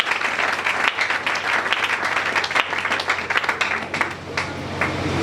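A church congregation applauds for the Lord during a French-language sermon, sustained dense clapping and cheering crowd noise throughout, rising and falling slightly before easing toward the end.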